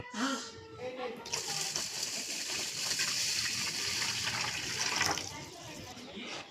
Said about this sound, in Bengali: এবার এর মধ্যে দেওয়া হবে জল।